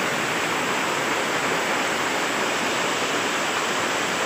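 Rushing floodwater pours steadily in a loud, dense, unbroken roar that fills the whole clip with no pauses, close to the listener and with no voices over it.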